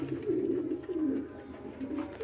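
Low, throaty cooing of pigeons, repeated soft rolling calls close by with faint rustling.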